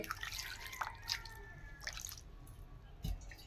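Water added to fish pieces for a masala fish fry, soft close dripping and splashing with small liquid squishes and a brief louder splash near the end, no talk.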